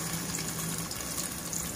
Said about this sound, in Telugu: మనకు ఇప్పుడు ఆయిల్ వేడెక్కుతుంది. దీంట్లో ఉల్లిపాయ ముక్కలు వేసేసుకుందాము